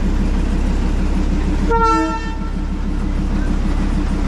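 A Darjeeling Himalayan Railway toy train gives one short horn blast, sharp and fairly close, while it stands for an engine change. A steady low rumble from the idling locomotive runs under the whole stretch.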